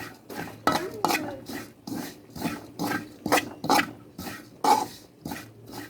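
Ingredients being dry-roasted in a pan for an Enrekang, South Sulawesi dish, with repeated scraping and stirring strokes of a utensil against the metal in a steady rhythm, close and clear.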